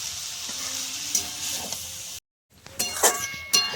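Fenugreek greens frying with beans and eggplant in a pan give a steady sizzle with stirring scrapes and a brief silent gap, then sharper sizzling bursts and clinks.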